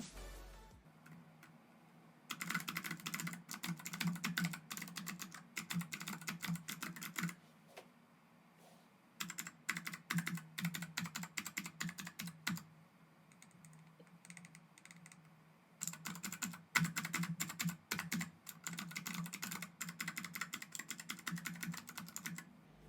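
Typing on a custom Arduino-powered macro keyboard, three long bursts of quick, close clicky key presses separated by brief quiet pauses.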